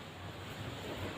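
Sea waves washing against a rocky shore, a close, continuous rushing wash with gentle surges and some wind buffeting the microphone, no voices.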